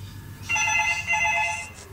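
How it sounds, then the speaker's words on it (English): A telephone rings twice in a bright electronic trill beside the water at a wildlife park with lizards and turtles. Each burst lasts about half a second and is clear and moderately loud over low background rumble, with no talk. "Oh, there's the phone."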